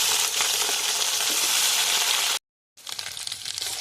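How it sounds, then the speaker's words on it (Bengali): Steady, loud sizzling of potatoes frying in a karai, a bright crackling hiss that cuts out briefly and then resumes. "কড়ার মধ্যে প্রথমে আলুগুলো দিয়ে দেবো"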